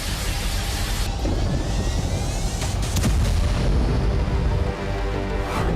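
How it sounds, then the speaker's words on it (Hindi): A FAB-1500 bomb explodes in Siversk, Donetsk, as a loud, rumbling blast with heavy low-end roar and crackling debris that persists for several seconds, recorded from a distance in open terrain. "जहां रूस ने FAB 1500 बम गिराया, जिसके बाद जबरदस्त धमाका देखा गया।"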